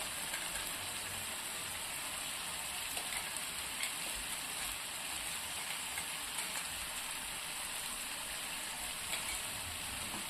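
Cashew paste, with a little turmeric, sizzles and fries in a pan while being stirred: a steady, soft, close hiss with faint scraping, and no voices.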